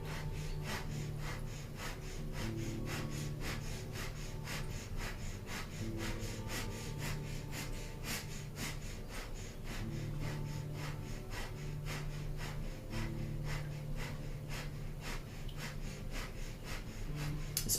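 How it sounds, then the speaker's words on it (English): Rapid rhythmic breath of fire through the nose during a Kundalini yoga kriya, a fast steady series of short sharp nasal pumps at close range, continuing evenly and quietly under faint background music. "So panting like a dog through the nose"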